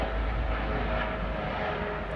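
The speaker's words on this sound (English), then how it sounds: "and a plane flying overhead." Plane flying overhead outdoors, a steady broadband engine drone with a low rumble, continuous and moderately loud with no talk.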